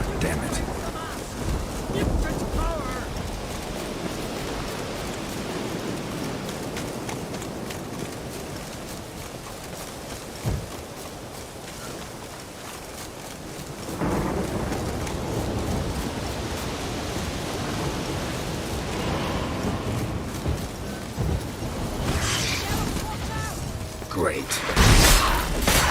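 A stormy outdoor scene in The Witcher 3, with steady roaring wind and broadband rain noise throughout, a sharp crack near the middle, and a loud gusting burst at the very end.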